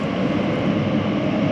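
An Elizabeth line train bound for Shenfield pulls out of Whitechapel station, giving a steady, loud, broadband rumble that holds evenly throughout.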